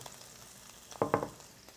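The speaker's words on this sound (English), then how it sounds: "Stir that up a little bit." A short, close stir of softened butter and shortening in a bowl: quiet background, then two quick scraping strokes about a second in.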